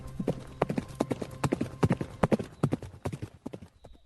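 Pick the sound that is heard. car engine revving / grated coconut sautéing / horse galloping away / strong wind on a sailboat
horse galloping away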